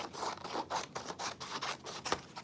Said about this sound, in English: match your corner to the top and cut off the rectangle